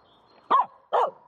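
A dog gives two sharp, loud barks about half a second apart while playing with a stick in a horse pen, with quiet background between them.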